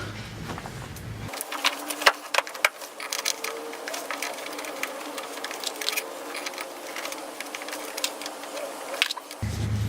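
A bolt is threaded into an Osaki OS-Pro OMNI massage chair, giving close repeated ratcheting clicks and metallic turning sounds in an irregular rhythm, with some handling noise.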